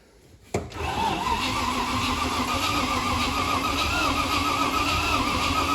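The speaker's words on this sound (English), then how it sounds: "We're not going to run it too long on the starter like that in one go" A cheap 4x4 V8 winch challenge truck cranks on its starter: a sudden click, then a loud, steady, droning whine that churns on close by without the engine catching.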